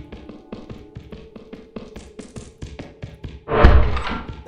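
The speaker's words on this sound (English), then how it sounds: "Hey, loot bug, can you open that door for me" In a video game, a loot bug opens a door: light tapping and thudding footsteps patter along, then a loud, heavy rumbling burst as the door swings open.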